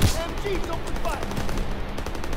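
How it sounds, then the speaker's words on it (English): Machine guns open up in Call of Duty: WWII, a dense, rapid rattle of gunfire that runs the whole moment with voices talking over it. "MGs open fire."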